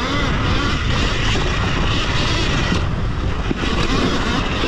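Surron Ultra Bee electric dirt bike ridden in F2 mode, a steady loud whir and rushing wind noise running continuously at close range without a break.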